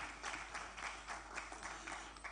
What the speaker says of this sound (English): A round of applause for our students